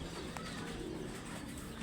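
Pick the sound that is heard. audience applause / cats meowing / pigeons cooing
pigeons cooing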